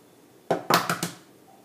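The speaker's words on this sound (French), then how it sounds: "on va séparer les blancs des jaunes de 4 œufs" Eggs being cracked and their whites separated from the yolks for a marble cake, heard as a few sharp, close taps and clicks of shell against a bowl in quick succession, then quiet.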